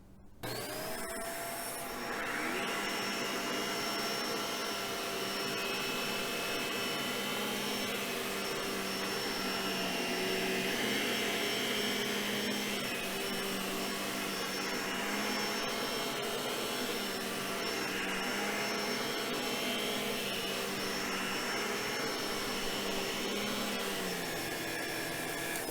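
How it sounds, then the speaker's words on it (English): A Shark Pet Pro vacuum cleaner starts with a click and then runs in a loud, steady whine while picking up long dark hair and shorter white hair, without any voices. "show the Pet Pro working on some long dark hair and some shorter white hair"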